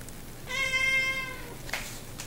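A single drawn-out cat meow, close and clear, followed by a brief rustle against a quiet background.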